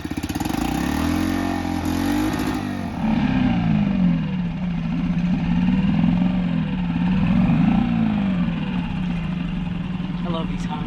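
A Honda outboard boat engine running steadily after a fresh cleaning, a loud, continuous motor drone with its pitch rising and falling slightly as the throttle shifts, heard up close with voices talking over it.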